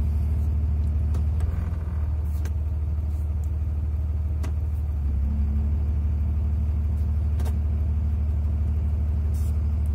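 A 2003 Dodge Ram with a Cummins diesel idles with a steady, deep rumble while the transmission shifter is cycled through its gears, faint clunks and clicks surfacing at intervals over the engine drone.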